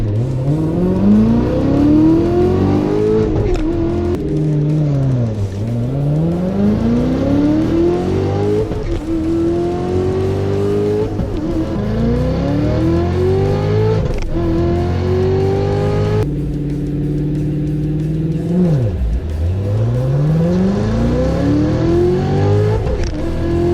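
Cars drag race at a callout event, engines revving hard and climbing through the gears with repeated rising sweeps, loud and sustained, shifting between runs.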